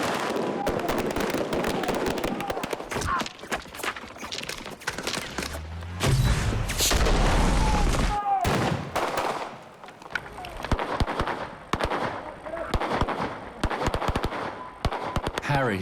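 Film-set gunfire and bullet-hit squib effects crack in rapid bursts of sharp reports and fusillades, loud and close, with a heavier booming blast in the middle, mixed with background voices and set noise.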